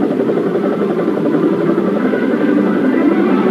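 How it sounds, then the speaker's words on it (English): A helicopter's steady, loud rotor and engine drone holds evenly throughout, close and constant with no voices. "There is a helicopter standing by for some hair-breadth-raising action."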